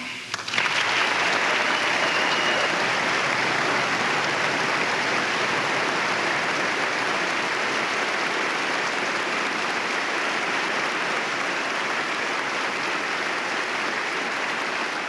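A large audience applauds at length to welcome Afghanistan's new Minister of Women's Affairs, a loud, dense and sustained roar of clapping that carries on steadily with no talking over it.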